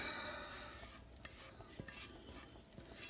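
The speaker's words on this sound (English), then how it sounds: "I'm going to clean all this stuff out of the pan and get all of the dough out" A utensil scrapes and stirs through leftover pancake dough in a pan, quiet repeated scraping strokes with light metallic clinks and no voices.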